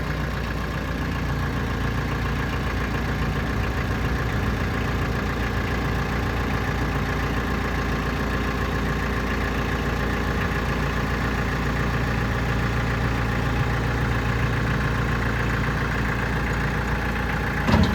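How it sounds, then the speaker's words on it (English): A TYM 5835R tractor engine runs steadily at around 900 RPM idle while the loader is raised and lowered, a continuous close, loud mechanical drone with no pauses. "let's go ahead and run the loader"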